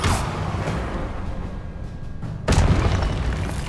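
An Expelliarmus spell blast in the video game Hogwarts Legacy opens with a loud burst that rolls into a sustained rumbling roar, then a second heavy blast hits near the end.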